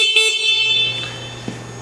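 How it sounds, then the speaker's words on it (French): An electric scooter's horn gives a short, bright electronic beep at the start, followed by a low steady hum and a faint click. "On a aussi ajouté un klaxon."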